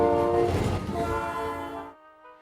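A diesel goods train shunting at a remote island station sounds a steady, close horn tone over its rumble, which then cuts off abruptly, leaving a brief fading ring.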